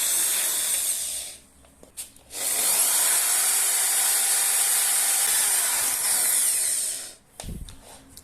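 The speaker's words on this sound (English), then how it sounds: "Let's drill a hole there." A loud, steady high-pitched whine of a drill boring through ceramic tile runs for several seconds, stops briefly, then resumes for a long continuous stretch before cutting off.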